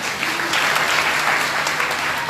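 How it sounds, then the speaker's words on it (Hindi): An audience claps loudly and steadily at a Srimad Bhagwatam religious discourse gathering in Baghpat, a brief burst of dense applause with no voices over it. "आपसे भी निवेदन है इन सब के लिए जोरदार तालियों से बजाएं"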